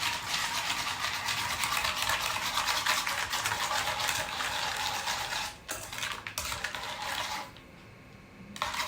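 Coffee mixture being stirred or whisked by hand, a rapid continuous scratchy rattle that briefly pauses, then resumes more quietly before stopping.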